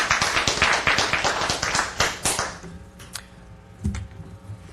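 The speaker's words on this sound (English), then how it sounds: "Now you may applaud." Applause from the audience at a town council special meeting, a dense burst of clapping for about two and a half seconds that thins out into a few scattered claps and taps.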